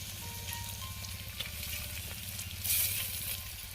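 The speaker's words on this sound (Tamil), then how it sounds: "இது கொஞ்சம் நேரம் வதக்கணும். நல்லா வதக்கிக்கணும்." Tomato thokku with green and red chillies sautéing in a pan, a steady close sizzle and crackle of frying with occasional stirring scrapes throughout.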